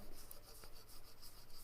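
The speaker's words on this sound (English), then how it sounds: "run it with the grain to try to get out any of my sanding scratches" A turned wooden piece is sanded by hand along the grain, giving a steady, close, soft rubbing rasp that continues without pause.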